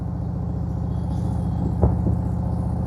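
A motorcycle with a windshield rides along an open road at about 55-60 mph, giving a steady pulsing engine rumble mixed with wind buffeting, and a brief louder gust or bump near the end.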